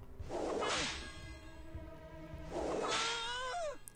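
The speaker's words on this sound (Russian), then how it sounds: "Удар молнии." Lightning strike attack effect in the Pocket Mortys video game, two sharp crackling whooshes about two seconds apart, each with a bright electric zap and ringing tones, loud and alone.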